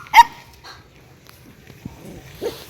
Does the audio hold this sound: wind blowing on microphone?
no